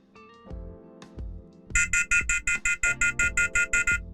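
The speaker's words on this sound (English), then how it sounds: "I can activate the alarm." A mini WiFi camera's wireless alarm beeps in a fast, steady series of about a dozen loud electronic pulses, after some faint handling clicks and knocks.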